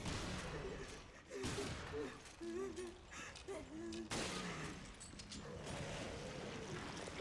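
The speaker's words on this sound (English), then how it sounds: "He does have a shotgun." Shotgun blasts in the video game Resident Evil: Revelations, several loud booming shots spaced over a few seconds amid dense game noise and a mid-clip impact, with a voice briefly audible.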